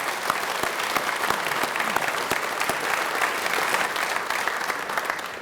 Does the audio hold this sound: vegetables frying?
no